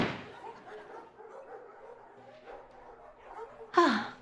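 A dog gives a single sharp bark near the end, close and loud, after a stretch of low murmuring background noise.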